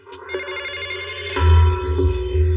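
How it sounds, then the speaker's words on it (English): A telephone rings with a steady electronic bell tone, sounding in repeated bursts that grow louder midway, with no talking over it. "The phone rang."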